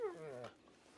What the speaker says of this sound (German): erstmal wird der Hund gestreichelt